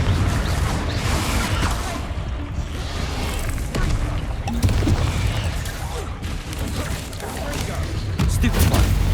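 Repeated explosive blasts of the Confringo fire spell in Hogwarts Legacy burst through a busy magical fight, several loud booms and crackles in quick succession amid voices and combat noise.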